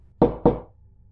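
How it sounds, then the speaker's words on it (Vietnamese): Two firm knocks on a door, spaced about a quarter second apart, sounding close and alone against a quiet room as an audio drama effect. "bên ngoài có tiếng gõ cửa"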